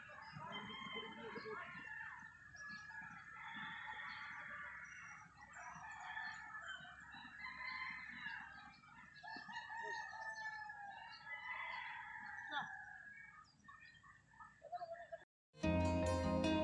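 Chickens cluck steadily and a rooster crows in a rural farmyard in a Philippine province, the birds sounding moderately near under a soft outdoor background.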